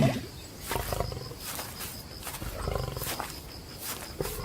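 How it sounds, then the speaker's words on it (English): A male Serengeti lion roars in deep, rumbling pulses across the savannah, repeated several times with short pauses, loud and fairly close. "the roar of the male lion echoes across the savannah"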